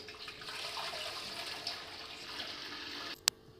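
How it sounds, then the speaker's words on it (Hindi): Water from a jug pours steadily into a large baking pot set up for steaming chicken, a continuous rushing splash for about three seconds that ends with a short clatter. "पानी तकरीबन इसमें मैंने 1 जग ऐड किया है।"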